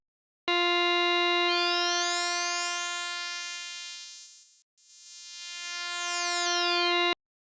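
A steady harmonic tone from a Nave synthesizer, cut abruptly on and off, whose upper harmonics are gradually filtered away until nearly silent for an instant, then return under a high-pass sweep, bright and sustained throughout.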